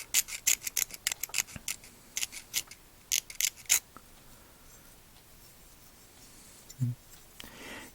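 An X-Acto knife with a freshly changed blade scrapes a diecast car during prep for paint, giving a quick series of short, sharp, close scratches over the first few seconds, then near quiet with a single low knock.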